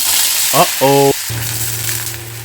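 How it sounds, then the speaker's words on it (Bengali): Thinly sliced onion dropped into hot mustard oil in a pan, a continuous bright frying hiss with a steady hum and a couple of short tonal beeps near the start. "এবার দিয়ে দিচ্ছি ঝিরিঝিরি করে কেটে রাখা একটা পেঁয়াজ"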